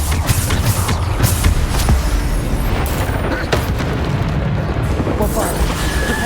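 Spell blasts from a Hogwarts Legacy duel, Bombarda explosions among other combat spells, rumbling booms and bursts layered densely over steady game noise, with a voice shouting spell names throughout.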